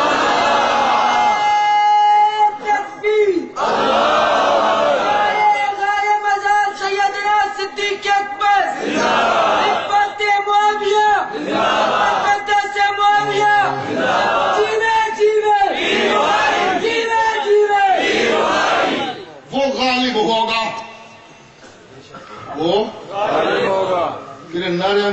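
A large crowd at a religious gathering chants slogans in loud, rhythmic call-and-response bursts, with a leader's voice driving each chant and brief pauses between rounds.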